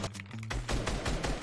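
Rapid bursts of gunfire in the Fortnite video game, several loud shots in quick succession over a busy game-sound background, with no voices.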